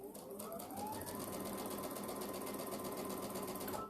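A sewing machine runs steadily at close range, a continuous rapid mechanical whir and needle chatter that holds without pause, with no talking over it.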